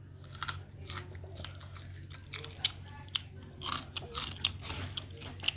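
Crunchy air-fried chicken being bitten and chewed close up, a run of sharp irregular crackling crunches, loudest toward the end, over a low steady background hum.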